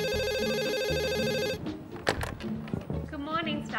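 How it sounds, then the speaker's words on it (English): An office telephone rings with a bright, repeating electronic bell for about a second and a half, then stops and a voice answers over faint background sounds. "Office phone."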